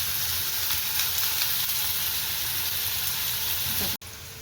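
Onions sizzle and fry steadily in a pan for a traditional Konkani dried-shrimp masoor dish, a loud continuous hiss that cuts off abruptly near the end.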